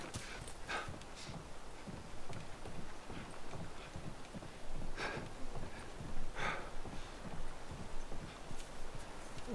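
Horse hooves in The Last of Us Remastered clip-clop in a steady, quiet walking rhythm, soft repeated knocks on ground with occasional brighter clatters, no talk over them.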